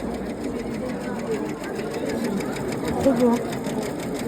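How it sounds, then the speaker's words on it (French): Sewing machines hum steadily at a stand in a creative-crafts fair, a continuous mechanical whir under close conversation and crowd noise. "Là, on a tout ce qui est machine à coudre."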